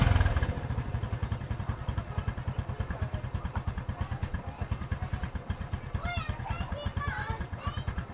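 Rented motorcycle being ridden on a rural errand, its engine thudding in a fast steady pulse close by, with children's voices and chatter mixed over it and a few squeaky clatters toward the end.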